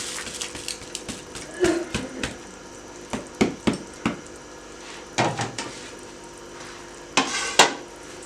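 A spoon stirs rice, peas, carrots and potatoes in a boiling pot of water for pulao, giving irregular scraping clunks and knocks against the metal, close and moderately loud, with bubbling underneath.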